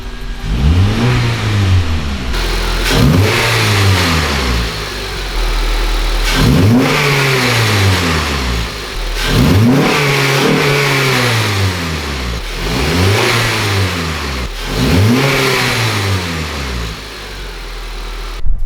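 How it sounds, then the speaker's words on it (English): A 9th-generation Honda Civic Si engine with an aftermarket Injen air intake revs up repeatedly with a deep, throaty whooshing intake roar, each rev rising and falling in several bursts, loud and close. "you can definitely hear the intake like sucking in all the air"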